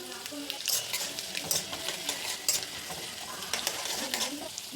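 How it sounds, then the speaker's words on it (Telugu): Peanuts with dried red chilies fry in oil for a tamarind pulihora tempering, a soft, steady sizzle broken by light scraping and stirring sounds, fairly faint and without speech. "పల్లీలు వేగిపోతున్నాయండి."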